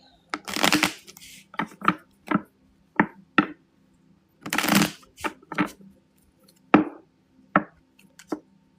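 Repeated riffle shuffles of a deck of Haunted House Halloween cards, crisp fluttering bursts separated by short pauses and quiet taps, close and clear.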